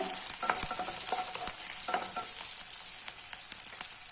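Onions sauté in a pan for a tomato and capsicum variety rice, a steady bright sizzle with a few soft scrapes of stirring early on, close and continuous without voices.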